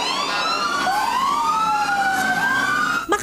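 A loud wailing siren for an earthquake drill sweeps up and down in pitch, continuous and close, ending with a brief clunk.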